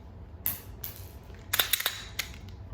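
A pistol fitted with a red dot and custom slide being cleared, several sharp metallic clacks and slide racks in quick irregular bursts, close and crisp against quiet.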